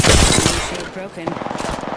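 Incoming automatic fire in Apex Legends strikes the player, a loud rattling stream of rapid shots with impact crackle, steady and close throughout, with faint voice-like sound mixed in.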